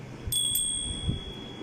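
A small hand bell rung twice in quick succession, bright metallic dings near the start that ring on and fade, at a political appeal over unemployment, with no talk over it.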